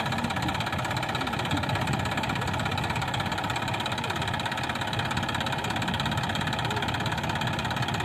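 A Massey Ferguson 241 DI tractor engine runs steadily at idle, a constant low rumble with a faint knocking pulse, no voices.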